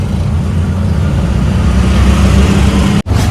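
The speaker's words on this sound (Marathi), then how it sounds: "चालू होतो आपण रिक्षामध्ये" An auto rickshaw engine drones steadily during a ride, a loud close rumble with road noise throughout, briefly dropping out for an instant near the end.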